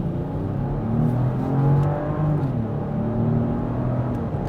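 A 2025 BMW X7 40i SUV accelerating at about half throttle, a steady, moderately loud engine hum with smoothly rising harmonics and muffled road noise throughout, no talking.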